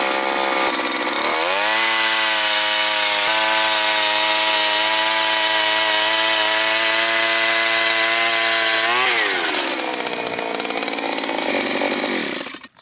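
An Eskimo F1 Rocket gas-powered ice auger roars loudly and close, drilling through ice with a sustained, steady engine drone that shifts pitch near the end as it breaks through, then cuts off.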